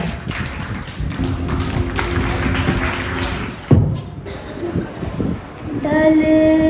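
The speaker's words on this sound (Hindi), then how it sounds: "जोरदार तालियों से स्वागत" Loud clapping from a cultural program audience welcoming a performer, a sustained rattle of many hands with a thump partway through, then fading as music begins.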